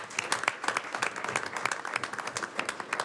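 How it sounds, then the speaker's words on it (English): A room of people claps for retirees at a Board of Trustees meeting, a loose, moderately sized round of individual hand claps with distinct rhythmic peaks, fairly close and without talk. "Please join me again in recognizing and acknowledging Jean Ann and all of our retirees with another round of applause"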